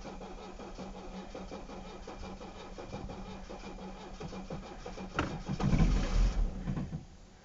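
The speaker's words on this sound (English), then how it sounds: "I'll finish pulling the knob, and that engages the starter" A starter cranks a cold diesel engine running on waste vegetable oil, a steady rhythmic churning for several seconds that swells into a louder rough catch and burst before fading, recorded close with no talk.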